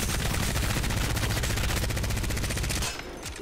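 Rapid, sustained automatic fire from an energy weapon in Apex Legends, loud and close, a dense even stream of shots for nearly three seconds before cutting off into a quieter tail.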